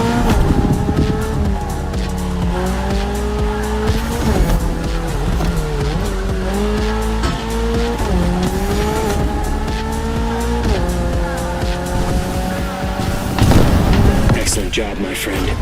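A Toyota GR86 with a lightweight naturally aspirated engine races in The Crew Motorfest, its engine climbing steadily through gears and dropping on shifts, with tire squeal and skidding toward the end, loud and continuous throughout.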